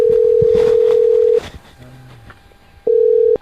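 A telephone dial tone sounds while placing a call, a loud steady hum that cuts off, leaving a short gap of faint background noise, then returns briefly.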